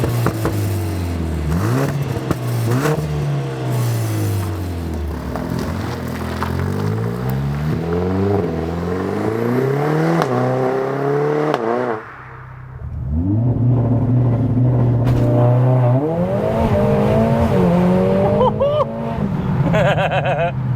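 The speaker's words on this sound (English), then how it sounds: "I'm gonna get this started up and go make some noise, because this thing sounds ridiculous now." Tuned 500 BHP Mercedes-AMG A45 S with an enhanced exhaust sound firing up and revving hard, loud and close, with repeated rising and falling engine sweeps and a brief dip before climbing again.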